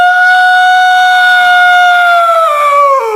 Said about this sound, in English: It needs to be a gigantic red siren that's going,